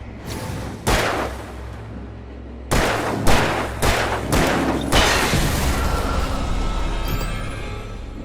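Gunfire in the video game Alan Wake Remastered: a single shot, then a cluster of five booming shots in quick succession with a rumbling tail and echoing ambience afterward.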